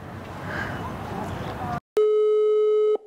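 On an unanswered phone call, faint room noise gives way to a short silence, then a single steady electronic tone sounds for about a second before cutting off.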